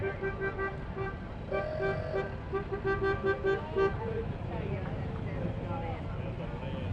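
Antique automobiles rolling past in a Fourth of July parade in North Carolina, with short horn toots and steady engine rumble under a commentator's ongoing talk.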